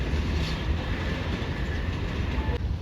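Tezgam express train, 8 Down, running at speed through Mali railway station in Pakistan, a steady loud rumble and rattle of passing carriages throughout with no pauses.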